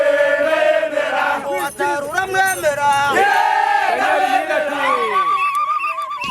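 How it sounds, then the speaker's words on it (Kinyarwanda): APR FC football fans in a stadium sing chants together, a loud massed chorus of voices rising and falling in melodic phrases with crowd noise beneath, continuous throughout. "Izo zari zimwe mu ndirimbo abafana b'ikipe ya Apel FC nyamukandagira mu kibuga kikarasa imitutu APR baririmbaga"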